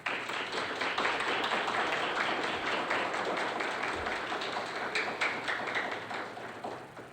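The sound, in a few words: audience applause at a scout ceremony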